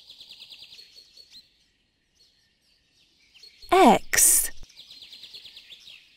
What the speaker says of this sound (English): Wood duck